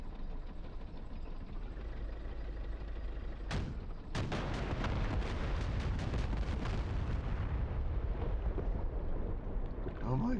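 Simulated HIMARS missile strikes in the DCS World combat game: a steady rumbling bed, then a sharp blast near four seconds followed by a dense cluster of loud explosions and crackling impacts that fade into roaring rumble.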